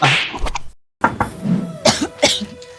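A person coughs several times up close in harsh, loud bursts, with a short silent gap after the first fit.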